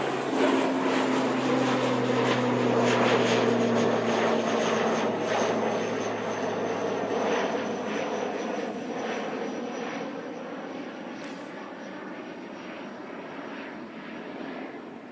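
Aircraft at Christchurch Airport, a steady engine roar that stays loud and broad throughout, slowly easing in level as the plane moves, with a low droning hum beneath and no voices.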